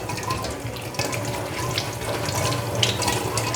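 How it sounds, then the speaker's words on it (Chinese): Tap water runs steadily into a sink while mud is washed off a lotus root by hand, a close, constant splashing stream with no speech. "莲藕身上的泥沙，先用清水把它洗掉，可以开小水"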